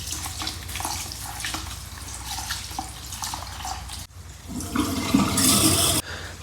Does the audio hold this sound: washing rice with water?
yes